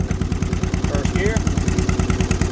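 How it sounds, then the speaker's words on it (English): A John Deere M tractor engine chugs steadily and loudly up close with a rhythmic, clattering beat while the clutch is pushed in, producing a grinding noise mixed into the running engine. "Push in the clutch. Hear a grinding noise."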